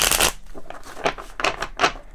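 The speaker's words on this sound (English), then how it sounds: "Pull you some oracle cards." Oracle cards being shuffled for a tarot reading: several quick riffling bursts in an uneven rhythm, close and fairly loud, with no talking.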